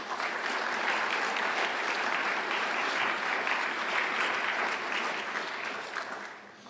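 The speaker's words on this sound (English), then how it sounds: "Let's give him applause" Sustained applause from a forum audience at a Polish-Japanese export event, a dense steady clapping that holds evenly for several seconds before tapering off at the end, with no talk over it.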